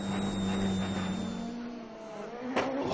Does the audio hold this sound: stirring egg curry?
no